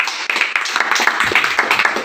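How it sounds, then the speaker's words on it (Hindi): An audience at a business motivational talk breaks into a short burst of scattered hand clapping, many palms slapping unevenly at close range for about two seconds. "एक बार ताली बजाइए"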